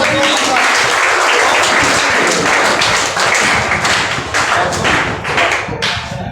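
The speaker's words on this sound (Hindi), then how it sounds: "दीपू कुमार तो ताली मारो।" Audience clapping fills a talent award ceremony for a coaching class, a dense, steady burst of applause with scattered sharp claps running throughout, loud and close, fading slightly toward the end.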